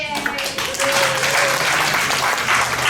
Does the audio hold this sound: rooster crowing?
no